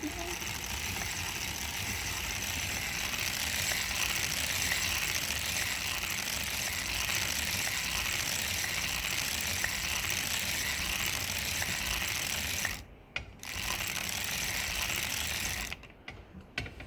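Auto-knitter sock making machine being hand-cranked to knit rows, giving a steady, close mechanical clicking and ratcheting that runs continuously, with two brief pauses near the end.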